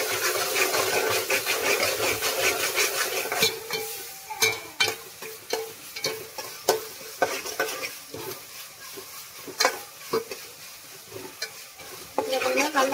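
Ginger garlic paste sautéing with onions in a hot pan, a steady close sizzle broken by repeated scraping strokes of a stirring spoon.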